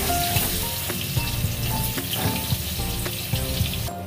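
Cut potatoes fry in hot oil with bay leaf and whole cumin, a steady close sizzle with occasional crackles and light stirring.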